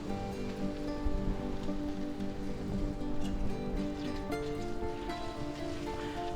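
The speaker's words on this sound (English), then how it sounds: "Now we're going to go ahead and add our bean sprouts in there" Bean sprouts hit a hot pan of chicken chow mein with a steady, dense sizzle, a continuous crackling hiss that stays loud and close throughout.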